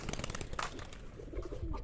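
Soft pigeon cooing mixed with bird calls and a bit of rustling, fairly close, continuous throughout.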